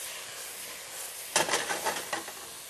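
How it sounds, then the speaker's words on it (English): Vegetables dropped into a hot pan burst into loud sizzling that crackles and then settles into a steady hiss, close by, following a quiet lead-in. "sizzling sound."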